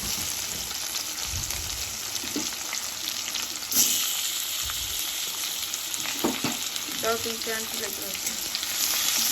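Boiled potatoes for egg curry fry in hot oil in a pan, a steady soft sizzle with occasional scraping stirs and light clinks, close and fairly quiet.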